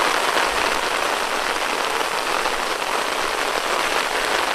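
Steady, heavy rain pouring down on a small hut amid rice fields, pattering on surfaces, a dense continuous hiss with no talking.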